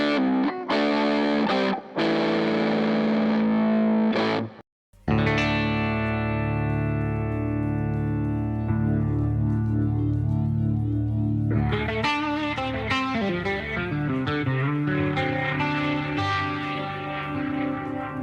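Electric guitar played through a Boss RT-2 Rotary Ensemble pedal imitating a Leslie rotating speaker: sustained chords and single notes with a swirling, warbling modulation and some grit, a brief break, then busier picked phrases, close and alone.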